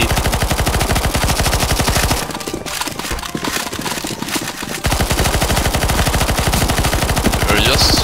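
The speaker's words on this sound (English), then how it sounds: "You're just shooting into this fucking ball" Gunfire from the CS:GO Zombies video game comes as loud, rapid automatic bursts that pound almost nonstop. A short break in the middle is filled with a different rattling, then the firing resumes at full intensity.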